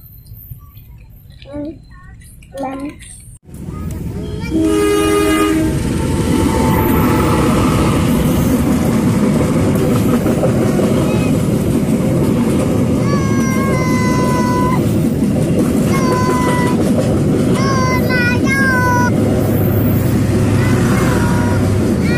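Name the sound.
very long train passing a railway level crossing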